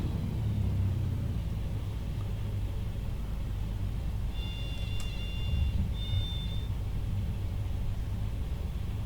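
A small aircraft's engine rumbles steadily in Microsoft Flight Simulator as it lands with the throttle cut, a constant low drone with a brief high whine partway through and no talk.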